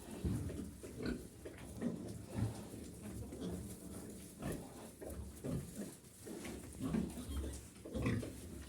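A sow and her 12-day-old piglets in a pen grunt and oink continuously, with close, low snorts and short squeals repeating throughout and someone speaking quietly at times.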